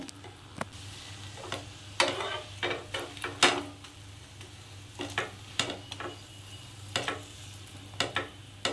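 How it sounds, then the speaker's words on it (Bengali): A paneer cheese pocket paratha fries in oil in a pan with a soft, continuous sizzle, while sharp clicks and taps from pressing and turning it come at irregular intervals, close by and without speech. "এইভাবে তেল দিয়ে আমি লাল করে পরোটাটা বেশ কিছুক্ষণ সময় ধরে ভালো করে ভেজে নেব।"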